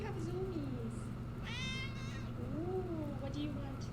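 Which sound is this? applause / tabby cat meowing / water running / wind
tabby cat meowing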